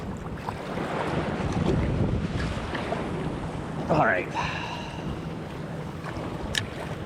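Surf waves and gusting wind on Newport Beach during surf fishing, a steady broadband wash of water and wind rumble throughout, with a brief spoken remark near the middle and faint clicks of gear.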